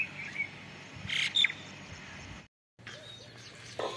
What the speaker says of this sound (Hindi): परिंदे वगैरह बोलते हैं। तो बहुत अच्छा लगता है।